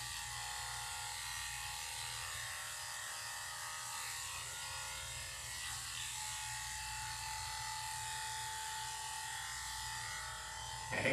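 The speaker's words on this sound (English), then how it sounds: "I'm just bringing the back side of the clipper up to see how he reacts" Electric dog grooming clipper running steadily at close range, a faint, even high-pitched buzz that continues without pause, with a brief louder bump at the very end.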